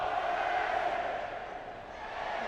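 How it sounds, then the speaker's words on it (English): Sporting Kansas City supporters chanting in call-and-response between the Cauldron and the South Stand at a 2015 U.S. Open Cup match against FC Dallas, a dense, steady stadium roar that swells and dips slightly. "you can hear the crowd once again here between the Cauldron and the South Stand with the call and"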